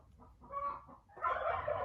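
A hen with Araucana-type legs and an ordinary hen's look clucks close by in a few short, throaty bursts, ending in a louder run of clucks.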